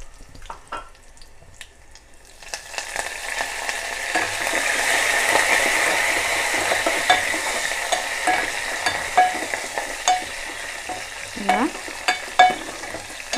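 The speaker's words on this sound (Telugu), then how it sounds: "ఇప్పుడు మనం ఇందులో కరివేపాకు వేసుకుందాము" Curry leaves, cumin and dried red chillies crackle into hot oil after a few light taps, swelling into a loud, steady sizzle with occasional spoon scrapes and pops.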